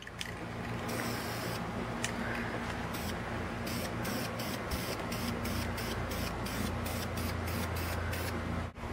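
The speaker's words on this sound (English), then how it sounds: "I am now just taking my black spray paint and I'm spraying the non-taped area." Black spray paint sprayed from a can onto the side of a wooden drawer during a furniture makeover, a close, steady hiss broken by brief rhythmic pauses and pulses, with no talking.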